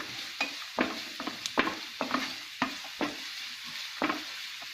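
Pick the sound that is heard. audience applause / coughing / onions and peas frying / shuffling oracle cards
onions and peas frying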